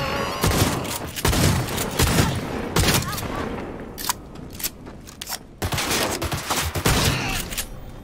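Rapid bursts of gunfire from a first-person shooter video game set in Cyberpunk 2077, loud and dense volleys with short pauses between, and a voice speaking over the action at moments.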